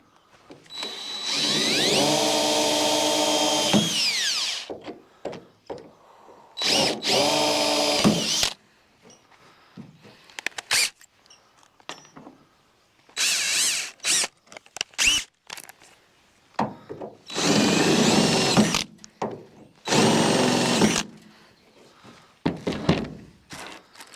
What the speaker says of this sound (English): Do a little pilot drill, then drill it out the size of the nutsert.